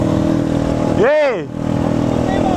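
A motorcycle among several bikes stopped on a São Paulo street idles loudly nearby, then gives one quick rev that rises and falls before dropping back to a rough idle. A voice can be heard briefly.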